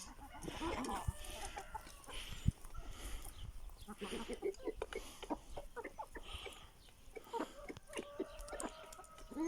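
Aseel roosters and hens cluck and call around a farmyard, irregular bursts of clucks and squawks overlapping at close range, with occasional louder crows and a faint scuffling background.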